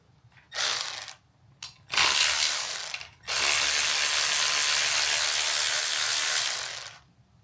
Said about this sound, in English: we can take these 4 bolts out, or actually I think it's 6